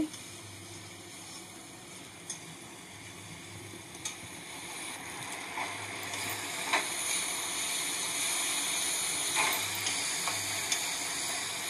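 Curry powder frying in a pan for an onion- and garlic-free chickpea-lentil cutlet gravy, giving a steady soft sizzle with a few small clicks and stirring scrapes; fairly quiet and close, with no talking.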